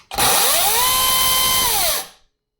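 A Vitals 36 V, 1.5 kW cordless electric chainsaw, with no oil yet in its reservoir, whines up to full speed, holds a loud, steady high-pitched buzz for a couple of seconds, then spins down.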